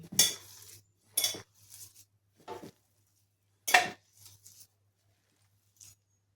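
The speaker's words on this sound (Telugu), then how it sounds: "ఇవి బాగా మిక్స్ చేసుకోవాలండి బాగా కలుపుకోవాలి" Idli batter being mixed in a bowl for punugulu, heard as a few separate bursts of spoon scraping and clinking against the bowl with pauses between them, over a faint steady hum.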